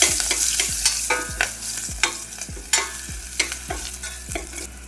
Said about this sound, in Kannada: ಹಾಕ್ಕೊಂಡ್ಬಿಟ್ಟು ಇದನ್ನು ಚೆನ್ನಾಗಿ ಫ್ರೈ ಮಾಡ್ಕೋಬೇಕು